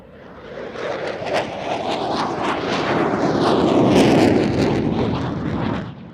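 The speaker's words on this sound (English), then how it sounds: "The F-16's again into the vertical, carrying out a Cuban 8." F-16 and JF-17 Thunder fighter jets performing at a Pakistan Air Force airshow, a loud roaring jet engine that swells toward the middle and then fades slightly, heard alone.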